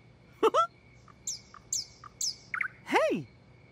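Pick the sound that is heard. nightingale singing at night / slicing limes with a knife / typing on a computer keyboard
nightingale singing at night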